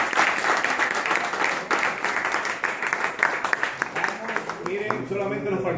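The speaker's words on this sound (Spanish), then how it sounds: "vamos a darle un aplauso" Audience applause at a founding assembly meeting in Passaic, New Jersey, a sustained round of clapping from a crowd with voices talking over it, thinning out toward the end.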